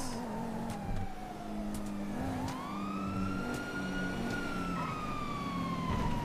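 An ambulance siren wails in the video game GTA V, with a gliding tone that sweeps down and back up over steady engine noise and a busy background.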